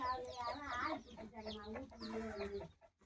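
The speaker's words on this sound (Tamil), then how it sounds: "அங்கே ஒரு சேவல் வருது பாருங்கள்" A black rooster from a backyard flock of black country chickens gives a run of loud, close, harmonic clucks and squawks in three bursts, heard alone without talk.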